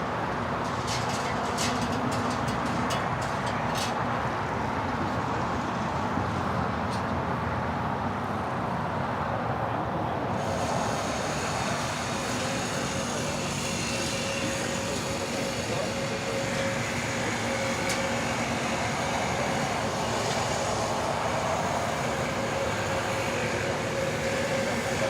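A Viva Aerobus Airbus A321neo from Mexico City arriving at LAX, a steady loud roar of jet engines and rushing air holding for the whole stretch, with a thin whine rising partway through as the airliner draws near.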